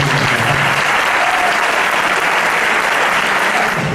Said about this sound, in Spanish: el aplauso vuestro para esta escuela